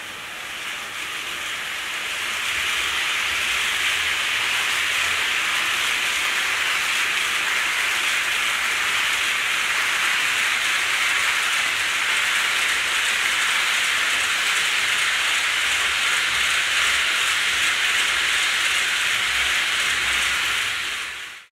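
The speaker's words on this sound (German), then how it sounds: "Und da kommt auch schon Zug." Small model railway train running on a floor track, a steady, dense rolling whir that stays constant for about twenty seconds before cutting off abruptly, close and alone with no talk.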